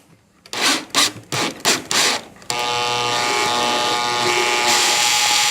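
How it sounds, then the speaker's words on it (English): Electric drill boring a vent hole into a plastic gas can: a few short whirring bursts start and stop, then a steady, loud, continuous grinding drone as the bit cuts through, with no talking. "we're going to slowly squeeze the trigger on the drill"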